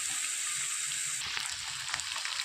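Onion, garlic and potato sauté in a pan with a steady, soft hiss and crackle that runs throughout without pause.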